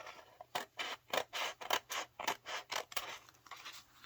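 Scissors snip paper curls off the edge of a handmade woodland Christmas journal, about a dozen quick crisp cuts in a steady rhythm, close and clear with no talking.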